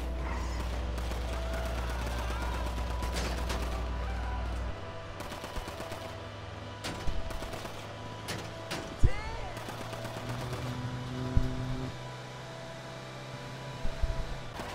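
Scattered gunshots crack out in a Grand Theft Auto V Online mission against bodyguards, a few isolated bursts over a low droning hum and background game noise, with occasional talk.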